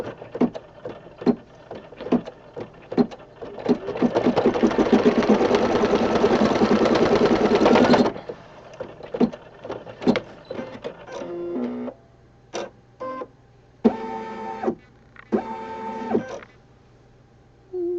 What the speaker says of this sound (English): We're going to do a placement stitch number 25 with a teeny tiny belly button in the middle.